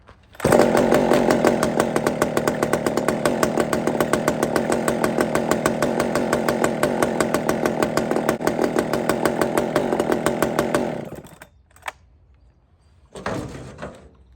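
A chainsaw runs loud and steady at high revs during carburetor tuning for a low-jet problem, then cuts out near the end before a brief final burst of revving.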